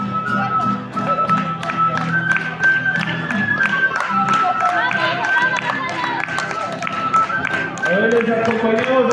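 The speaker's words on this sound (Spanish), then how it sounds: "les acompañamos aplaudiendo" Crowd clapping at a Catholic youth gathering in San Roque, brisk continuous applause with dense tapping throughout, under a voice speaking over a loudspeaker.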